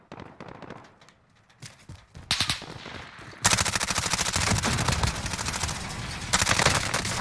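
Gunfire in Call of Duty: Warzone, starting with sparse, quieter shots before erupting into loud, sustained close-range automatic fire that continues steadily to the end.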